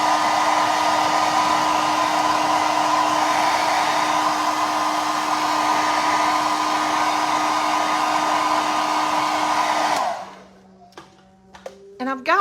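A hair dryer runs loud and steady over a painted furniture finish with an even motor whine, then switches off, leaving a few soft clicks and handling noises.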